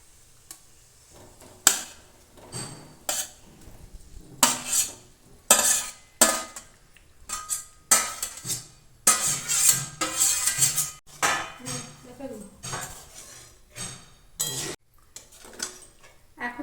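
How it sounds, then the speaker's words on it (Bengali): Potatoes and cauliflower go into a pot of simmering gravy, with a string of irregular clanks, knocks and scrapes of a utensil against the pot, loud and close, separated by quiet gaps. "এখন আমি আলু আর কপিগুলো দিয়ে দেবো"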